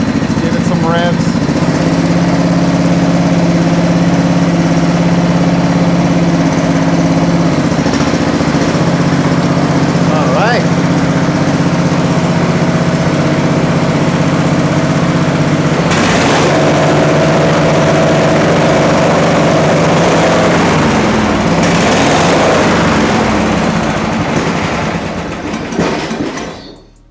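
A small gasoline engine runs steadily and loud, its pitch climbing and surging through a few revs before it cuts off abruptly at the end.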